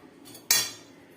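A spoon stirring oil into spice powder in a pan for capsicum fry gives a single sharp metallic clink against the pan, close and brief, then fades quickly against a quiet background.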